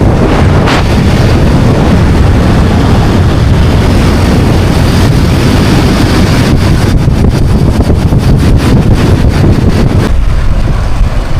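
Heavy wind buffeting and road roar from a motorbike ride through Ilam, Nepal, loud and continuous, fluttering against the microphone throughout with no audible speech.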